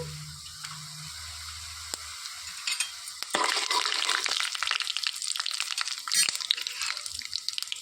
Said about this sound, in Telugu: ఇందులోనికి తీసి పెట్టుకున్న మినపప్పు శనగపప్పు వేసుకొని వేయించుకోవాలి ఇందులోనికి ధనియాలు కూడా వేసుకొని వేయించుకోవాలి